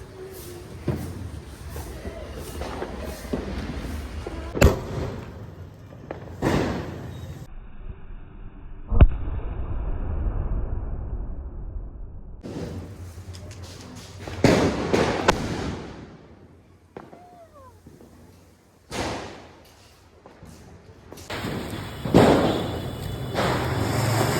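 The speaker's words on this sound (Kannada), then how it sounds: "ಫ್ಲ್ಯಾಶಿಗೆ ಪಟಾಕಿಗೆ ಕಣ್ಣೇ ಕಾಣ್ತಾ ಇಲ್ಲ ನನಗೆ" Diwali firecrackers and fireworks burst repeatedly nearby, sharp loud bangs and crackles separated by hissing and quieter gaps, with occasional voices in between.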